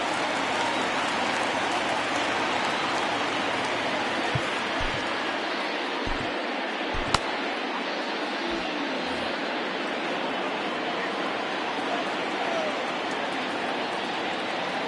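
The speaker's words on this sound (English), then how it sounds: "It looks like this rain is going to be around for a while." Steady, loud rain hissing down on a ballpark during a rain delay in the baseball video game MLB The Show 20, continuous and even throughout, with a few faint low knocks underneath.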